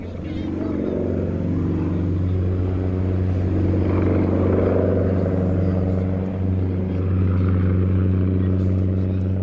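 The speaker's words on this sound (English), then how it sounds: "But the ultimate in gravity-defying displays came from Xavier de Lapparent in this Sukhoi Su-26." A Sukhoi Su-26 aerobatic plane flies a gravity-defying display at the Farnborough 2002 air show, its powerful piston engine giving a loud, steady propeller drone with a slowly shifting pitch.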